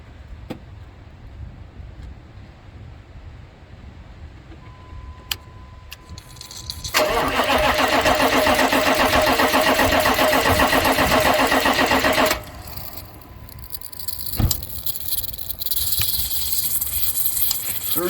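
A diesel vehicle's engine being cranked over while fuel is bled from the bleed hole: a loud, steady churning crank lasting several seconds that then drops away, with workshop clicks and handling noises before and after.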